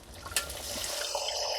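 Thick tamarind extract poured into a hot pan while making temple-style Iyer puliyodharai, a soft liquid splash settling into a steady sizzle and trickle, close and fairly quiet.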